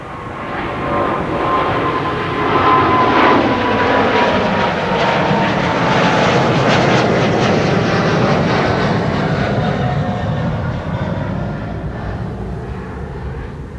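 A KLM Boeing 777 airliner on flight 591 to Johannesburg roars by at Amsterdam Schiphol, a loud, sustained jet rumble building and slowly easing over the span, alone without voices.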